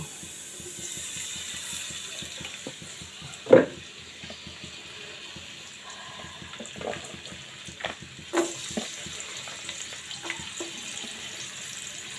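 Chopped garlic and large onion pieces frying in oil for a Chinese-style vegetable dish, a steady soft crackling sizzle throughout with a few louder clinks and stirring knocks, no voices.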